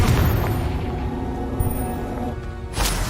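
A Confringo explosion spell cast in a video game: a loud, dense boom that rumbles for several seconds, then a second burst near the end.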